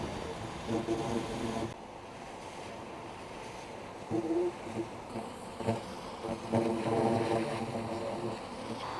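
An Apiaspi bee vacuum drawing a clustered bee swarm into its chamber, a low steady motor hum mixed with buzzing bees, fairly quiet, rising and falling in short bursts.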